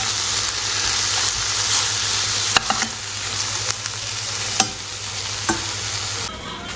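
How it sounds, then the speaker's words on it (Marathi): Fenugreek greens tossed with crushed peanuts in a hot pan give a steady sizzle and hiss, broken by a few sharp spatula scrapes and taps against the metal. "आता मेथीच्या भाजीमध्ये पण टाकलेला आहे मिक्स करून"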